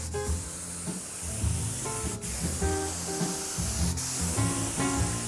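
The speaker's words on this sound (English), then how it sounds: "Now we'll spray this." A spray can hisses in a long, steady burst over a sanded piece of furniture, with faint music playing underneath.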